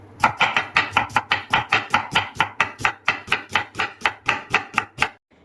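A knife chops onion into small pieces, about nineteen quick, even strokes on a board, loud and close, ending with a brief pause.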